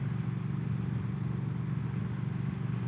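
A Triumph Thruxton 1200 motorcycle is ridden at a steady pace, its engine giving a continuous low, even drone with a slight mechanical clatter, close and with no talk.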